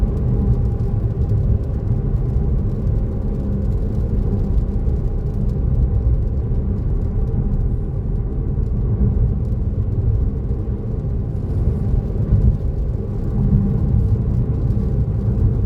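A car driving itself on FSD 12.3 software produces a steady low cabin rumble of road and tyre noise that holds evenly throughout, with no voices.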